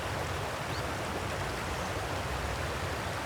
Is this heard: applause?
no